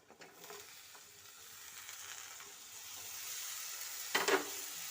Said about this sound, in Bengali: দিয়ে আবারও ভালো করে মিশিয়ে নেব